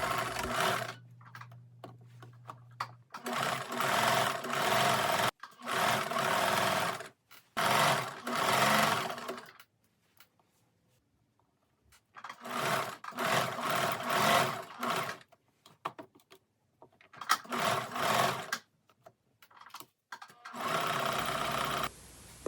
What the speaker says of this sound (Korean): 아몰 부분만 반대편에서 박음질 한 것과 같은 방법으로 박음질을 해줍니다.